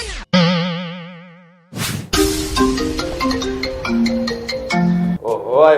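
An iPhone ringing, a loud electronic ringtone with a warbling tone, a sharp burst, then a bright melodic run of chiming notes close at hand.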